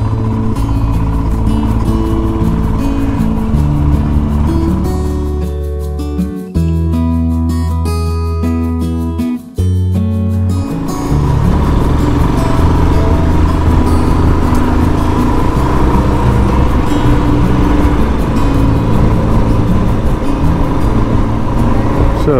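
Steady Royal Enfield Himalayan motorcycle engine drone while riding, loud and continuous, with a brief dip in pitch midway before it settles back into a constant hum.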